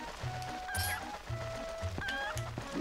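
Chickens (cuccos) in the video game Zelda Twilight Princess cluck in short, repeated bursts over a low game background, faint and spaced through the clip.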